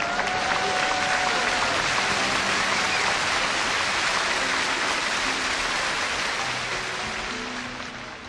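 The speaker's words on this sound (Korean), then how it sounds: "여러분, 뜨거운 격려의 박수 부탁드리겠습니다." A church congregation in Brisbane claps in sustained, warm applause that fills the room at full strength, then gradually tapers off toward the end.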